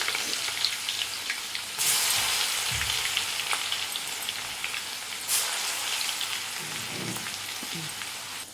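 Crushed garlic fries in oil over a low flame, giving a continuous soft hiss with occasional louder crackling surges and faint clinks of a utensil.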